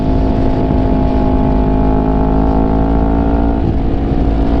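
Kawasaki Ninja 250R SE motorcycle being ridden, a steady, loud engine drone with continuous harmonic hum holding a near-constant pitch and a slight shift near the end, close up and with no talking.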